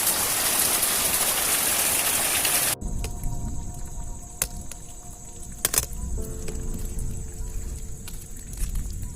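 Heavy rain at night in a Ratnagiri village makes a dense, loud hiss for the first few seconds, then gives way to a quieter wash of rain under a steady electrical hum and a few sharp crackles.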